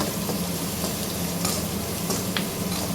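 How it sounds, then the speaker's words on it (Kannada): Food frying in a pan after salt has been added, a dense close sizzle and crackle that holds steady from start to finish with a few sharper pops, no talking. "ಹಾಕ್ಕೊಂಡಿದ್ದಾದ್ಮೇಲೆ ಮತ್ತೆ ಸ್ವಲ್ಪ ಫ್ರೈ ಮಾಡೋಣ"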